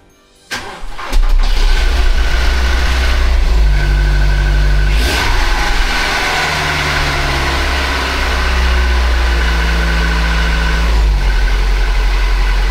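A Ford Galaxy 2.3 engine, just fitted with a new valve cover gasket, cranks briefly and catches, then settles into a steady, loud idle with a low rumble that holds alone to the end.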